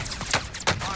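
Gunfire from the Call of Duty Warzone video game: a few sharp shots sound in quick succession over about a second, moderately loud and close.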